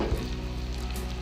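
Meat stew with ginger frying and being stirred in a pot, a steady close sizzle running without a break for a second or so, no voices.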